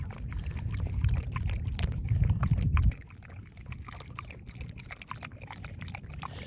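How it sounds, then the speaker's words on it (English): Water poured from a bottle for a dog to drink, a steady splashing trickle for about three seconds that then stops, leaving a softer dribbling and lapping sound close by. "It is nice having a dog that'll drink from a water bottle."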